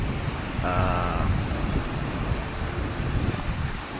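Surf rolls in where the Bogowonto River flows into the sea on the coast of Java, a continuous wash of waves mixed with wind buffeting the microphone, with a brief tonal whine partway through and no talk.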